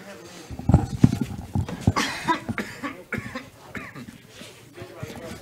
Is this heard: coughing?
yes